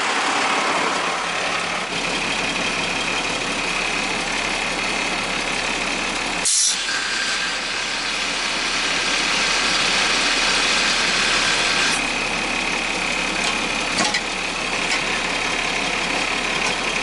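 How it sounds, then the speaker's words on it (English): A dump truck's engine runs loud and steady while its bed is raised, a continuous mechanical drone with a brief clunk midway and a few small knocks. "Now we gotta raise up the bed."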